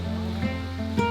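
Yongchu Falls, a twin waterfall on Dutasan mountain in Samcheok, Gangwon, rushes with a steady broadband roar, with a faint tonal hum and soft bumps mixed into the constant flow.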